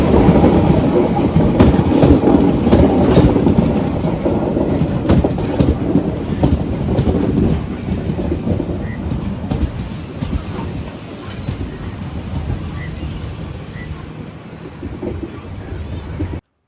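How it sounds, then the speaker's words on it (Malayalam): A train pulls into the small Avaneeswaram railway station with a loud rumbling rush of wheels and a high metallic squeal that gradually fades as the train slows. "വണ്ടി ഇപ്പം ആവണീശ്വരം എന്ന് പറഞ്ഞ റെയിൽവേ സ്റ്റേഷൻ എത്തിയിട്ടുണ്ട്"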